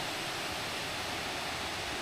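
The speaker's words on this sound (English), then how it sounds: "It's just a small waterfall," Small waterfall at Hopkins Falls in Australia, a steady, dense rush of falling water heard close and alone, unbroken for the whole stretch with no voices.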